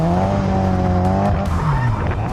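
Budget drift car sliding through a figure of eight, engine revving high with a steady droning tone that dips, tires squealing and skidding continuously, loud and close throughout.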